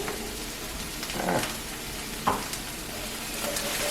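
Peppers frying with onions in a pan for huevos rancheros, an even, close sizzle with a couple of soft scraping stirs, no voices.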